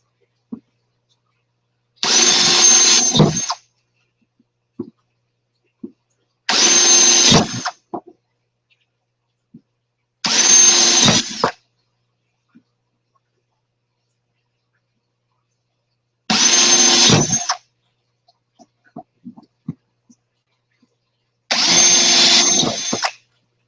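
A power drill boring drain holes for an aquaponics T-syphon, heard in five separate bursts of about a second each with quiet gaps and small handling clicks between them.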